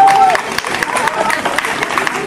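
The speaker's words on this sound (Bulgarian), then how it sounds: "Моля за вашите аплодисменти." An audience at an honorary membership presentation applauds briefly, a dense crowd clapping with a few cheers, loud and close, over a steady murmur of voices.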